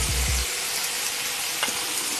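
Potatoes seasoned with salt sizzle in a pan while being stirred, a steady close frying hiss with a few low thumps of the spoon at the start and one brief scrape later.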